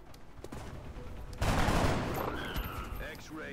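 A burst of gunfire in the video game XCOM: Enemy Within erupts abruptly midway, a loud rattling fusillade that fades into a decaying tail, with a voice speaking before it.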